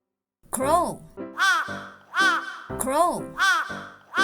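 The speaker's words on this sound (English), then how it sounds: "Crow." A crow caws five times in a steady, loud, fairly close series of harsh calls with short gaps between them.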